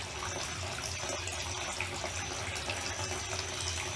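A small electric water fountain runs steadily, its pump feeding a constant trickle and splash of water at close range, with no talk over it.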